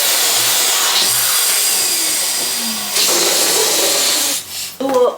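An electric pump inflates 5-inch latex balloons for a balloon tree base, a loud, steady whine that cuts out briefly and restarts, then stops near the end amid rubbery squeaks.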